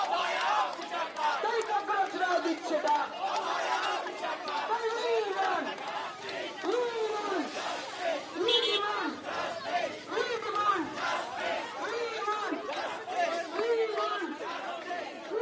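A large crowd on a junior doctors' protest march chants in rhythmic, repeated call-and-response phrases, voices loud and massed, with steady street noise underneath.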